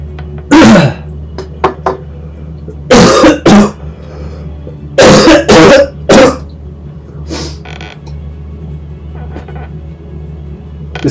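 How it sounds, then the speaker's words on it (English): Several bursts of coughing and throat clearing from one person close to the mic, in spaced clusters over a low steady hum, with quiet gaps between fits. "making me want to cough more"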